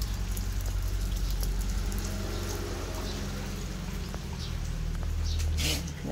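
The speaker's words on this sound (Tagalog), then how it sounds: "So, it's more easier na pumunta dun sa, dumaan dun sa likod kung ganitong umuulan." Rain falling in a home yard, a dense steady patter with soft scattered drips, moderately loud and continuous, with no voices over it.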